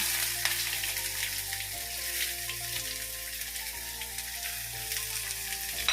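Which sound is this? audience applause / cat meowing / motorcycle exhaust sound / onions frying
onions frying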